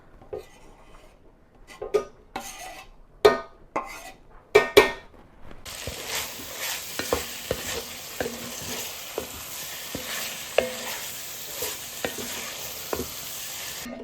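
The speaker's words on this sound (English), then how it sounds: "Now we're just going to put in our meatballs, our chopped up meatballs." Chopped meatballs are tipped into a pan for baked spaghetti, then stirred with a spoon, giving repeated sharp scraping and clinking strokes over a steady, rising sizzle.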